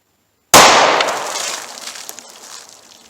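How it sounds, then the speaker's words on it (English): A single 9mm +P 124 grain Federal HST round fired into a Juggernaut box: one sudden, very loud, sharp gunshot after a moment of silence, followed by a long, fading ring and reverberation. "let's see what we get through the Juggernaut box with a 9mm plus P 124 grain"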